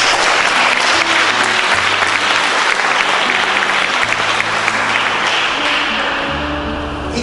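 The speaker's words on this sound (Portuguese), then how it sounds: "Vamos aplaudir o nosso Deus." A church congregation applauds loudly and steadily, a dense wash of clapping that carries on without a break and eases slightly near the end, with a low musical tone underneath.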